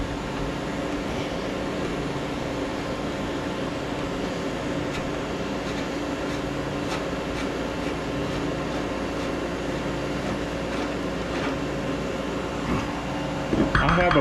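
A meat grinder fitted with a 4.5 mm die grinds brisket and bacon, giving a steady, droning motor hum that runs unbroken close by, with a brief clatter near the end.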